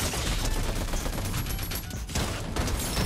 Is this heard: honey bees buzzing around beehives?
no